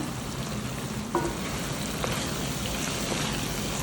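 Dried vanjaram fish karuvadu sizzles and fries in masala in a pan, a steady soft crackling hiss throughout with a small clatter near the start.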